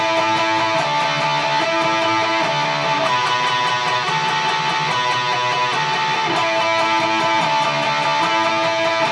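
Guitar plays the complete chorus part of a song in a dense, continuous run of sustained, ringing chords that holds steady and loud for the whole stretch, with no voice over it.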